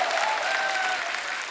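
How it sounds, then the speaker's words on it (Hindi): A studio audience at a Hindi comedy talk show breaks into steady, dense applause, a loud continuous wash of clapping with no pause across the short stretch. "आपकी ये तालियां,"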